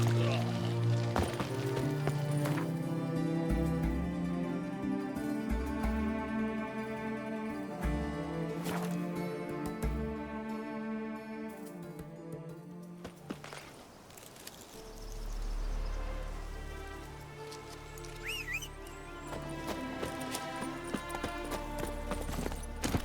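Horse hooves clip-clopping in The Witcher 3, a steady rhythmic run of hoofbeats mixed with game music and ambience, shifting to a different outdoor background partway through, with a voice heard in places.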